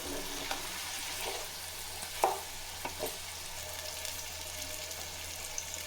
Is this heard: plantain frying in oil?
yes